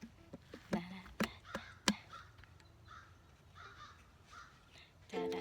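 Crows caw in mid-May at Rosy Mound near Grand Haven, Michigan, several sharp, loud calls in an uneven run early on, then softer, more distant cawing, with a faint voice entering at the end.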